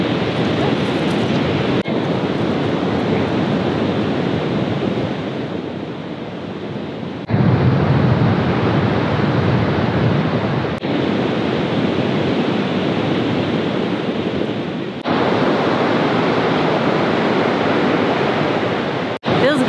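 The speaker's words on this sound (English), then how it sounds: "Oh, but very windy and cold." Strong, cold wind blows steadily along an ocean shore with surf, a loud continuous roar that swells and dips in long gusts with no talking.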